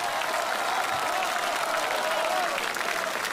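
Warm applause from a theater audience fills the space at a live Luoyang folk-performance show of Henan zhuizi, crosstalk and Heluo drum singing. The clapping is dense and continuous at an even loudness, with faint voices mixed into the crowd.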